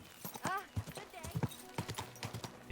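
Horse hooves clip-clop in a cantering rhythm in the video game Kingdom Come: Deliverance II, close and clear with a short whinny, while someone talks over the hoofbeats.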